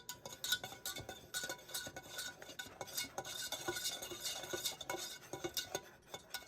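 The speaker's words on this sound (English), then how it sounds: "A roux is equal parts fat and flour." A spoon scrapes and stirs a roux of fat and flour in a pan, with continuous busy scraping and light metallic clinks, close and steady, with no talking.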